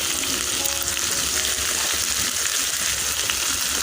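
Spice paste with red chilli, turmeric and cumin powders fries hard in a pan for katla fish kalia, a loud, continuous sizzle and hiss with faint stirring and no voices.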